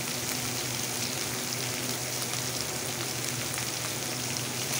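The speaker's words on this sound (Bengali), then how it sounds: "একটু ভেজে নিই।" Chana dal tadka with tomato and a little salt frying in a pan, a steady dense sizzle that holds close and even throughout with no pauses.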